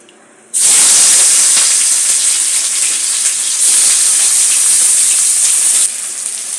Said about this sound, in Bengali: এই পেঁয়াজগুলো আগে তেলে দিয়ে দেবো